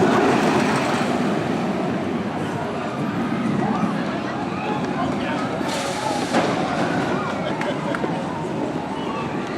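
Wicked Cyclone, an RMC roller coaster at Six Flags New England, runs a little slow, giving a loud, continuous rumbling roar with rattling clatter that holds steady from start to finish.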